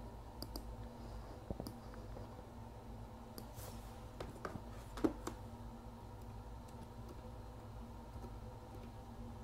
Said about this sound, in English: Oh, I'm typing in English.